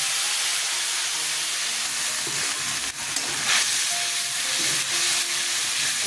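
Ginger, chilli and tomato frying in hot oil in a pan, a steady loud hiss and sizzle with occasional crackles and a brief spatter burst midway, continuous throughout.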